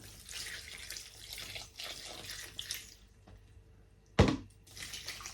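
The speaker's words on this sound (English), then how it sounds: "I think it's going to need some more water. So I'm going to add another litre." A short burst of water poured into houseplant soil, a single splashing gush near the end after quiet room background.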